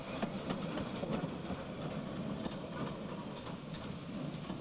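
A 1950s–60s steam-hauled passenger train, a tank engine pulling non-corridor coaches, storms past Brunswick Shed in Liverpool with a dense, continuous rumbling roar and faint rhythmic clatter, loud and close throughout.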